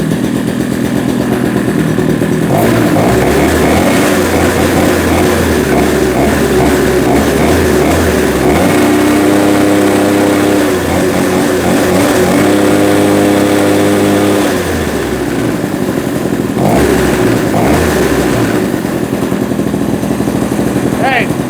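An Arctic Cat Kitty Cat snowmobile, rescued from junk condition, runs loud and close, a buzzy small two-stroke idle that rises and falls in pitch as the throttle shifts.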